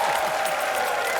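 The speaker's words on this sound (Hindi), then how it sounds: "चलिए तालियां।" A studio audience on a comedy talk show breaks into applause, a short, dense burst of clapping heard from the room.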